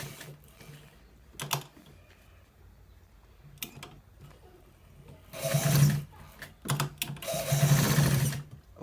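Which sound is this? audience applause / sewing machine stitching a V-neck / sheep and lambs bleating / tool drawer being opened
sewing machine stitching a V-neck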